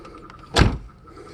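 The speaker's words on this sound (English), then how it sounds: "Door locks." A Mercedes SL600 R129 roadster's door locks actuate through an aftermarket keyless entry system, a single sharp mechanical clunk, close and brief, against a quiet background.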